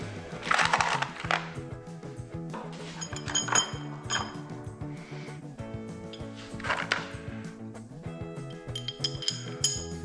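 One-inch carriage bolts handled while assembling a Helios Design front end loader for John Deere 425/445/455 tractors give intermittent metallic clinks and rattles, with a few sharper knocks. The sounds are close and fairly clear, and no one speaks.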